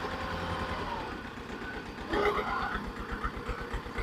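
A small tractor engine chugs and idles while being turned around in a cramped field being prepared for strawberry planting, a steady low mechanical drone that swells louder midway as the machine maneuvers.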